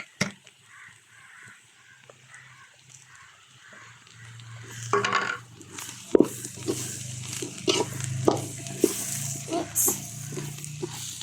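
Spicy chili powder being stirred into homemade achar pickle with vinegar, soft scraping and clinking of a spoon against the pot in irregular bursts, getting busier and louder partway through, with faint background noise.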